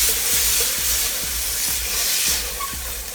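Butter melting and sizzling in a soup pot on the stove for chicken pot pie soup: a steady, fairly loud hiss with faint rhythmic scraping ticks of stirring underneath, no talking.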